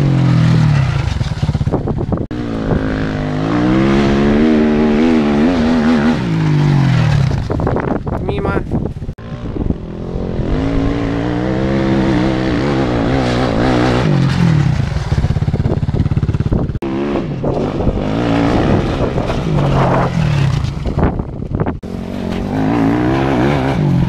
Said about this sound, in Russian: Ну так и надо, сильное торможение.